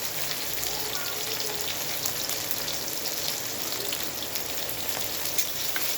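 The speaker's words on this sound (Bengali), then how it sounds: "এবারে পেঁয়াজ দিয়ে দিব, সবটুকু পেঁয়াজ দিয়ে দিব।" Onions tipped into a hot pan for a cauliflower curry, giving a steady, dense sizzle and crackle of frying that holds even and loud throughout, with no voices.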